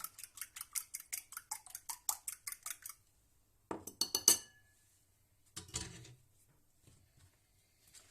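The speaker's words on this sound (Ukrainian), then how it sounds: "І знову все це розмішую." Quick, regular clinks of a fork whisking egg and milk in a bowl, about a dozen strokes, then a pause and a few more scattered taps and clatters.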